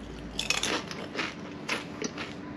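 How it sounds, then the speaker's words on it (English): Crunchy Indonesian snack chips with crispy, fibrous burnt ends being bitten and chewed up close, a quick series of crackling crunches with no talk. "Look, these little burnt, little crispy ends right there. They're extra crunchy, fibrous."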